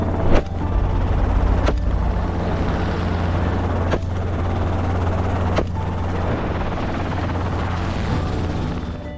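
A helicopter drones loudly and steadily close by, its rotor thump and engine whine continuous throughout.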